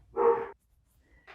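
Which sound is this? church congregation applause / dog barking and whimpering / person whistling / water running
dog barking and whimpering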